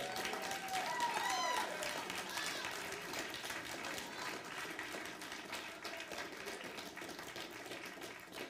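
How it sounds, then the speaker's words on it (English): Church congregation clapping in praise, a faint, steady, diffuse patter of many hands heard from a distance, with brief voices or tones near the start. "Give the Lord a good clap offering."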